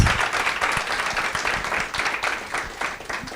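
Audience applause for a panel of speakers at a conference on women's roles in conflict, a steady dense wash of many hands clapping, fairly loud and continuous throughout.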